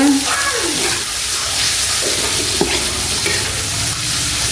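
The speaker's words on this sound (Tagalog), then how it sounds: "Gisa natin konti." Food sautéing in a pan in a home kitchen, a steady loud sizzle with occasional stirring scrapes, and faint talk underneath.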